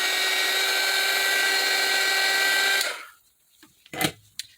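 A heat gun blows hot air over paper craft roses, a loud, steady whooshing hiss that cuts off abruptly, followed by a few faint handling knocks and taps.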